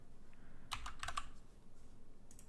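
Code is typed on a computer keyboard, a quick cluster of crisp key clicks near the middle and a few lighter taps near the end over a quiet room hum.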